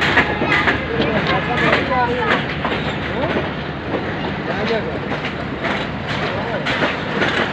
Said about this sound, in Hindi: रहमान बाबा एक्सप्रेस की एक ब्रांच लाइन की ट्रेन है जो आने वाले जीराबाद ब्रांच लाइन पर रवाना होती है।